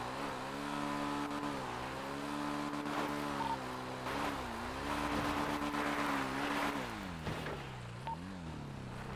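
A dirt bike engine revving and dropping in pitch during wheelie drifts in a role-play game, with a steady buzzing tone that repeatedly swells and falls, mid-distance and without talking.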